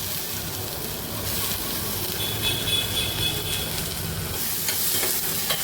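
Tomatoes frying in a pan: a continuous, fairly loud sizzle with stirring scrapes and light crackle throughout, no voices.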